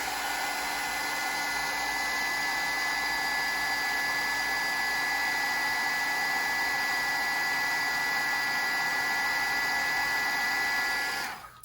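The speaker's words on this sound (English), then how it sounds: "grab my heat gun" An embossing heat gun blows hot air over embossing powder, making a steady, loud, continuous whoosh with a high whine that runs nearly the whole time and then cuts off at the end.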